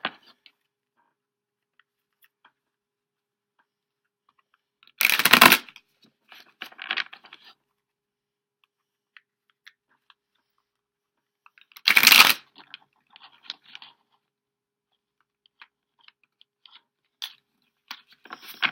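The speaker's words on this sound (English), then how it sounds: "I'm going to shuffle this other deck really quickly" Two quick bursts of tarot cards being shuffled, several seconds apart, each followed by soft tapping and handling sounds in an otherwise quiet space.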